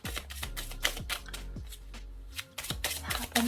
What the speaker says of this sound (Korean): 제가 레노먼드 카드도 좀 뽑아보도록 할게요